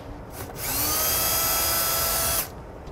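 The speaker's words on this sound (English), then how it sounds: "So I'm going to take a 1/2 inch drill bit. I'm going to drill me a hole." A power drill with a 1/2 inch bit whines steadily at high speed for nearly two seconds as it bores a hole in a 2017 Heartland Pioneer trailer, loud and close, then stops abruptly.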